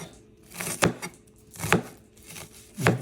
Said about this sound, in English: That's how you chop the onion.